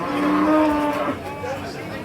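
A Holstein Friesian bull calf moos loudly at a busy livestock market, one long drawn-out call that tails off, with crowd noise murmuring in the background.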